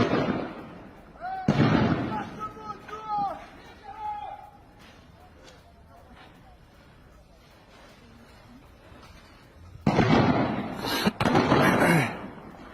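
Gunfire aimed at protesters in Iran cracks out in dense, loud bursts at the start and again near the end, with a quieter stretch of rumbling and scattered pops between, all heard amid a noisy street scene.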